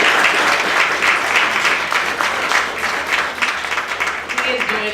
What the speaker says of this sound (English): Give Mr. Doris a round of applause.